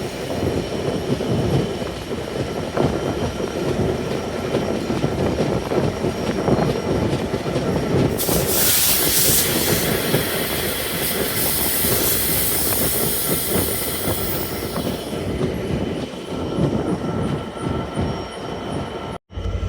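A train rumbles steadily close by as it leaves Bhanga Junction station, with a sharp burst of high metallic wheel squeal in the middle before the noise eases off.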